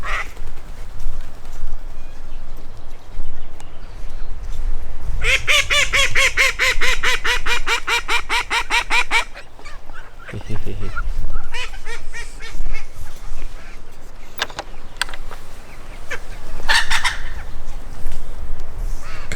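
Young Red Mottled Ancona bantam chicks and ducklings call in a busy run of rapid, high peeping cheeps and quacks, loud and close, with fowl noises repeating in bursts throughout.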